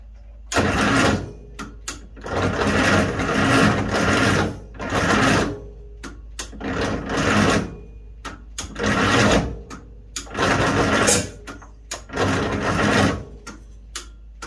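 An International 300 Utility tractor engine cranks on its starter in repeated long bursts, each churning grind lasting about a second or two, separated by short pauses, close and loud, with a weak battery turning it over slowly.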